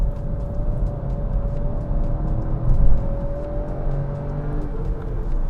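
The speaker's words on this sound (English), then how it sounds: "it sounds like a 3-cylinder car" A Kia Ceed with a three-cylinder engine accelerating in second gear gives a steady, close, buzzing drone that slowly climbs in pitch, alone without talk.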